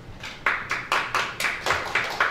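Audience at a televised Korean presidential primary candidate debate claps in steady rhythmic unison, a sequence of about nine sharp, evenly spaced group claps.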